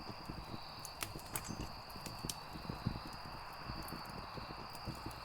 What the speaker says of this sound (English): I can hear those footsteps still